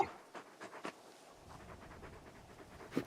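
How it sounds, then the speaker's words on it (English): Dog panting in the Final Fantasy XVI video game, quick soft breaths in a loose rhythm, faint and close over low background noise. "You're just a big puppy, aren't you? A very big puppy."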